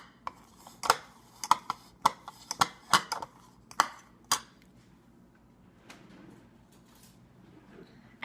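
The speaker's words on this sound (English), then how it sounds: "So I'm just gonna mash this sucker up with a fork." A fork taps and scrapes against a bowl while mashing hard-boiled eggs in a home kitchen, with a quick run of sharp clinks close by that thin out into quieter rubbing.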